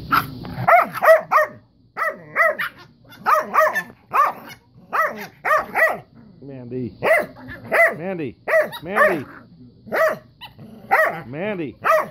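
A small Jack Russell terrier barks in quick repeated bursts, close and loud, with people talking and urging it on between barks.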